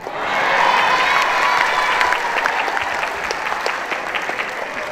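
An audience at an official Bogor Regency gathering claps; the applause swells quickly in the first half-second, then holds as a loud, dense roar of hands before easing slightly toward the end.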